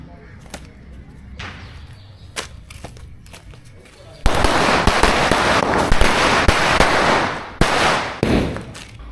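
Diwali firecrackers burst in a rapid, loud barrage of cracks and pops, preceded by a few scattered sharp bangs, then a dense continuous crackle with brief pauses, outdoors with people talking faintly underneath.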